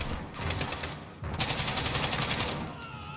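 Sustained automatic AK rifle fire in the Modern Warfare campaign, a dense rapid rattle of shots that pauses briefly near the middle, then resumes louder and steadier before tapering off, with no talk over it.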